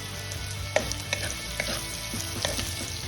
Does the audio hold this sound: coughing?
no